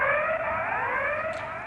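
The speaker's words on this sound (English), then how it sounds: "the criticality alarm sound is whoop, whoop, whoop" A Sellafield nuclear criticality safety alarm plays from a recorded telephone announcement, a loud steady electronic warbling tone with layered harmonics, slightly distorted and continuous.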